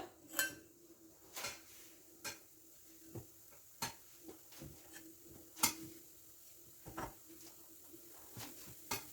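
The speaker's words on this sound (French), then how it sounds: "je vais les déposer directement sur ma poêle chaude, enfin mon tagine chaud" Small semolina galettes are set one by one onto a hot tagine, giving soft scattered clinks and light taps at an irregular pace, close and fairly quiet.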